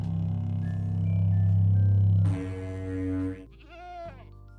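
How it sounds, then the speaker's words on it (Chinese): A screaming goat in Minecraft lets out a few harsh, strained bleats: a long tonal cry, then a shriller, higher call and a short wavering one, loud and close with nothing else heard. "然后尖叫山羊的超难听哦"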